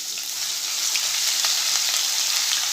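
Crushed garlic and ginger sauté in oil in a pan for Mumbai-style pav bhaji, giving a loud, bright, continuous sizzle close up with faint stirring ticks.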